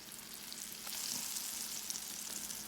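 Yellow summer squash frying in hot grease in a skillet, a steady, close hiss and crackle of sizzling oil, fairly quiet and unbroken, with no voices.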